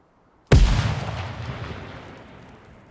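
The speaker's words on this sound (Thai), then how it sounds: "ระเบิดมือ" In the video game Ground Branch, a single sudden, loud hand grenade blast hits after a moment of quiet, then rolls away into a long, fading rumble. No one speaks.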